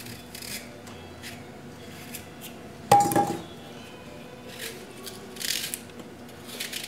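A knife cuts and cores apple quarters on a board, with soft scraping strokes and one sharp clink of the blade partway through, close and fairly quiet with no talking.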